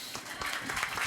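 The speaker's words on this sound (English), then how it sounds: "Right, you can applaud that." A lecture audience bursts into a short, dense patch of clapping after a civil rights figure, Reverend Jesse Jackson, is named, the applause close and steady for about a second.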